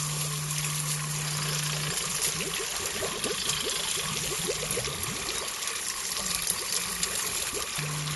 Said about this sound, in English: historic water wheels, made from bamboo and still in operation, carrying water from the river to the rice paddies